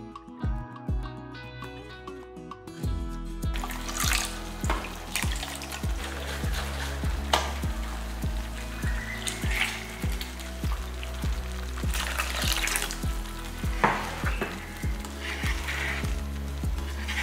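Egg curry with ground paste boiling in a pan, giving a steady bubbling sizzle that runs throughout, close and moderately loud, with background music.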